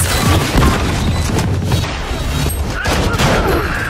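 Dense video game gunfire and explosive bangs, a chaotic barrage of overlapping shots and impacts that is loud and continuous throughout.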